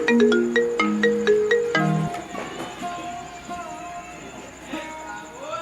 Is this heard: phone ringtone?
yes